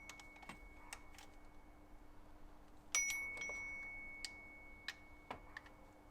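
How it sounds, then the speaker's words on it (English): Quiet, irregular metallic dings and clinks of a socket hitting a BMW 318d N47 water pump pulley, with one sharper ring that hangs and fades like a small bell. "The dinging is the end of my socket just hitting the bell, the actual pulley on the water pump"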